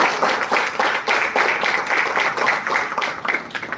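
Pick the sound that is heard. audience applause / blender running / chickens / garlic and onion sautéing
audience applause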